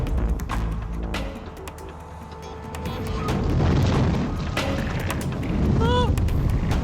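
A methane gas explosion set off in a mine as a demonstration: deep booming bursts and a rolling rumble that swells into a sustained roar over several seconds, loud and close.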